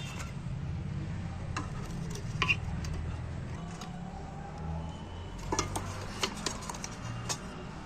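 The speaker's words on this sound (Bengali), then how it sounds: "আমি জলটার মধ্যে একটা স্ট্যান্ড বসাচ্ছি উল্টো করে একটা একটা করে বাটি বসিয়ে দিচ্ছি" Metal bowls set one by one onto a stand inside a pot of water, heard as a few faint, scattered clinks and taps over a low, steady background.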